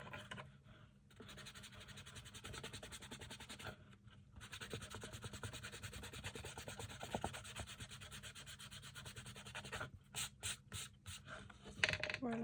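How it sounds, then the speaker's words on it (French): Rubber eraser rubbing on paper while making a sewing-box craft, quiet continuous scrubbing strokes with brief pauses and quick short rubs near the end. "Je vais gommer ici d'abord."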